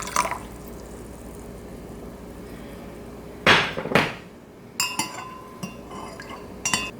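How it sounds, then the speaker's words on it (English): Cooled simple syrup is poured into juice, with soft trickling and liquid splashes plus a few sharp glassy clinks against a container over a faint steady background hiss. "Once your simple syrup is cool, you're going to add it to 2 cups of your favorite juice."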